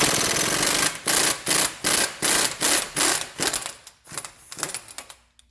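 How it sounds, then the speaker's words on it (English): A 30mm 12-point socket is hammered to loosen the CV axle nut on a 2003 Toyota Corolla, a run of about a dozen sharp, close, rhythmic metallic blows that grow uneven and taper off toward the end. "take a 30mm 12-point socket and hammer off the CV axle nut"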